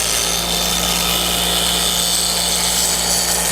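A metal lathe turns down bolts in a workshop, giving a loud, steady whine and hum with no pauses throughout.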